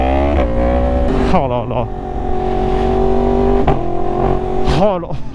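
A motorcycle with a Sparks Fighter aftermarket exhaust idles loudly, then is revved in several quick throttle blips that rise and fall in pitch, close by, with a man exclaiming over it.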